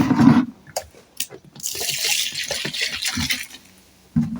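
Water is poured in splashing bursts into a liquid detergent mixture as it is stirred, with pauses between pours and faint trickling.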